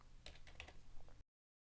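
Rapid key clicks from typing on a computer keyboard, entering data into a spreadsheet, close and fairly quiet, ending abruptly into silence.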